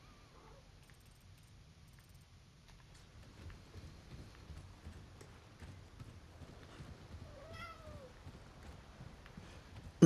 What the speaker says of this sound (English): Cat's meowing at me.